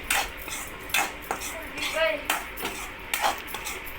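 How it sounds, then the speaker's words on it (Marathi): Red masala frying in a pan while being stirred, with repeated sharp scrapes and clinks of a metal spoon against the pan over a low background sizzle, close and moderately loud. "इकडं चालू आहे आता मस्त फ्राय"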